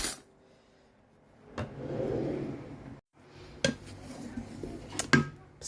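Small spoon clinking against a bowl of Moroccan bissara soup, a few light, sharp taps near the end after a softer scrape, close and fairly quiet with no talking.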